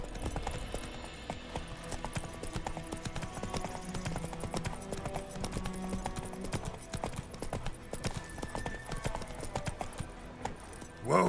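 Hooves of Roach the horse clip-clop steadily in The Witcher 3, a close rhythmic trot continuing over game music and ambient sounds for the whole stretch.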